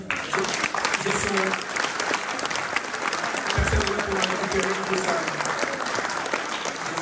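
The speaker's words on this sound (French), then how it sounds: "Donc je vous propose qu'on l'applaudisse." Audience applause at a mayor's New Year wishes ceremony in a hall, a dense sustained round of clapping filling the whole stretch, with voices and murmurs mixed in underneath.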